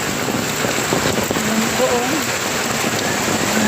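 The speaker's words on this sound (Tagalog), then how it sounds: "Sa sobrang lakas ng ulan." Heavy typhoon rain pours down in a dense, unbroken roar with gusting wind beneath it, loud and close, while a voice speaks briefly over the downpour.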